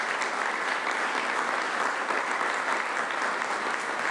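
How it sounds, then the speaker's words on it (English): Sustained applause from an audience at a volunteer recognition ceremony, a steady, dense wash of clapping that holds at an even level throughout, with no speech over it. "Let's give Olivia, Jasmine, and our color guard another wonderful round of applause."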